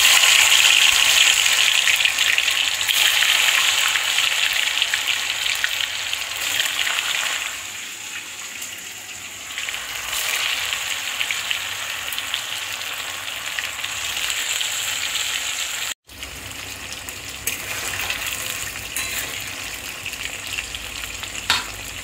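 Chitol fish balls fry in hot oil in a kadai, a dense, steady crackling hiss that holds loud throughout and briefly cuts out for an instant partway.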